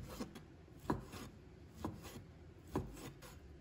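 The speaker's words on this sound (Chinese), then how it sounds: "再给它切成片。 这里我们一定要薄一点，不要切得太厚" Lean pork sliced thinly with a knife on a cutting board, four soft, evenly spaced cuts each ending in a light tap on the board, quiet and close, without speech.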